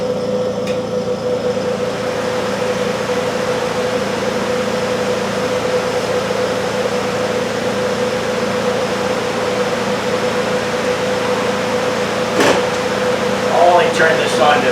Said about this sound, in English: And we're gonna turn on our fans.